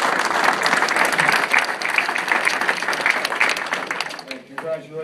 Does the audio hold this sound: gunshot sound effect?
no